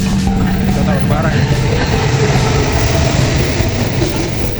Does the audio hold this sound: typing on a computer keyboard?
no